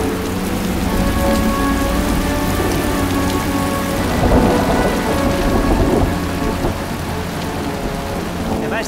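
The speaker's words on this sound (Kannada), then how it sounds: "ಜೋರಾಗಿ ಮಳೆ ಬರ್ತಾ ಇತ್ತು" Heavy night rain with thunder in a horror film scene, a loud constant downpour with low rolling rumbles swelling midway, steady throughout and with no voices.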